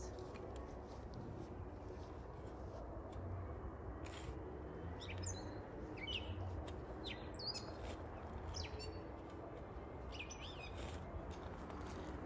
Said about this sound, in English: the birds in the background just singing